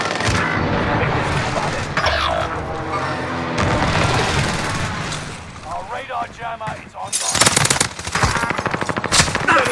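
Rapid automatic gunfire rips through a Call of Duty Warzone match on Caldera, loud bursts and booms in close succession, with game sounds and a player talking over the shooting.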